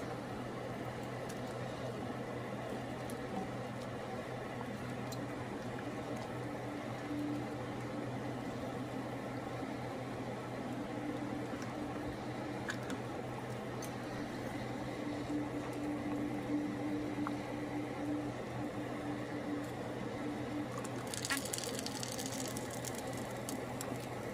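A pot of water with spaghetti at a free rolling boil gives a steady, low, continuous bubbling roar that runs evenly for about twenty-four seconds, with no talk.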